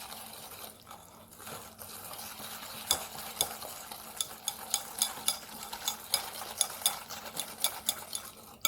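Sugar being mixed in a bowl for anise cookies, with a run of soft scraping strokes that turn into sharper rhythmic clicks and taps about twice a second, close and alone.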